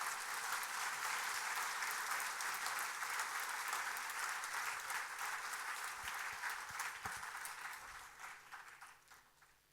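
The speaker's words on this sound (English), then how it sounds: "Let's all give a big round of applause to our teachers." A large audience at a school annual day applauds its teachers, a loud sustained wash of clapping that holds for most of the stretch and then tapers off toward the end.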